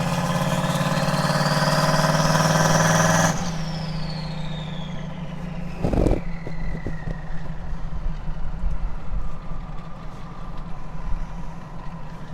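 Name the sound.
car engine revved from idle to wide open throttle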